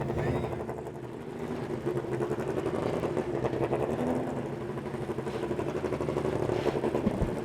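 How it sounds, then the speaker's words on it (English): Several Indy Pro 2000 racing car engines idle and rev unevenly nearby while warming up at Mid-Ohio, a layered mechanical drone with occasional rising whines and faint talk underneath. "You can hear the sound of those elite engines as they are coming up to speed"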